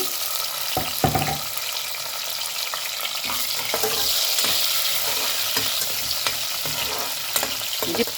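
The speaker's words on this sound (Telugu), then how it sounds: "ఇది ఒక చిన్న ఆనియన్ వేస్తున్నానమ్మా" Onion sizzling and frying in a pan for a cabbage fry, steady close crackle with occasional stirring scrapes and clinks, no talk.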